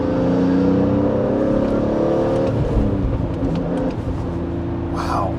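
A BMW E46 M3's S54 straight-six engine revs hard, pitch climbing then dropping back, loud and close with a steady mechanical whir.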